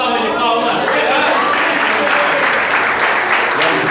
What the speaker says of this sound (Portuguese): dê uma boa salva de palmas